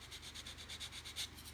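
A sanding stick rubs back and forth on a model kit part near a nose cone, giving close, soft, rhythmic scratchy strokes at a steady pace with no talk.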